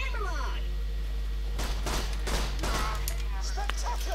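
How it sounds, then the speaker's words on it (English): Video game gunfire from Borderlands 2 fires in several quick bursts and single shots through the middle of the clip, over a low constant hum. "Just gonna shoot him through the wall."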